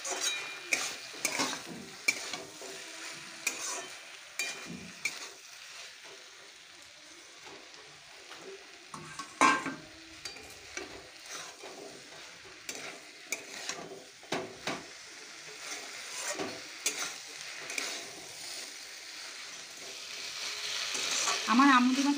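Fish being fried for a Bengali chochchori curry sizzles and crackles steadily in a pan, with irregular stirring scrapes and clinks throughout and a louder spatter near the end.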